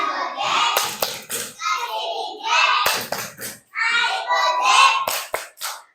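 Children playing a clapping game in class, sharp rhythmic hand claps in short bursts interleaved with children chanting along, close and lively.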